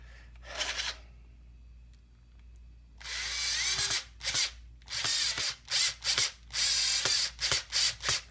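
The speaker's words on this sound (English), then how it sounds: "Really grab my trusty old Dremel." An old Dremel rotary tool grinds near a hair clipper's hinge and lock keeper in short bursts, first a brief buzz, then longer runs broken into quick pulses, close and fairly loud with no talk.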